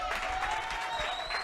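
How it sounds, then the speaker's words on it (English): Audience at a panel chat gives a round of applause, a soft, continuous patter of many hands clapping together with a faint steady tone beneath, even in level throughout. "Let's give Sbu a round of applause."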